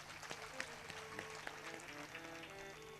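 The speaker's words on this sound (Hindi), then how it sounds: "एक बार हनुमान जी महाराज के लिए ताली बजाएं जोरदार आप।" Audience clapping at a Hindu religious discourse (Bhagwat Katha), a quick, fairly faint patter of claps over a sustained musical drone, with no voice on top.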